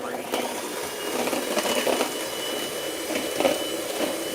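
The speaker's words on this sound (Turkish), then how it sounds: "Tekrar yavaş yavaş çırpacağız." Electric mixer whisking muffin batter with flour and baking powder, a steady whirring drone with slight surges, close and continuous throughout.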